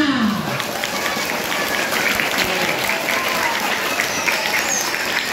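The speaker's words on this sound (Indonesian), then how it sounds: "Oke, tepuk tangan semua." First-grade schoolchildren at a school orientation event clap together in a loud, continuous burst of many small hands, filling the room evenly from start to finish.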